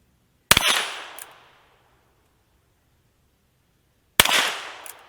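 Two sharp, loud single gunshots from a Ruger Wrangler revolver firing Federal 40 grain ammunition, spaced several seconds apart, each with a short echoing decay and near silence between.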